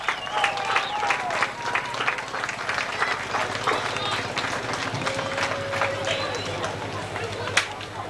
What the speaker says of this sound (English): A big cheer for a few dollars more.